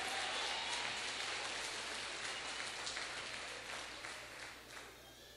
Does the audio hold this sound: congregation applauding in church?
yes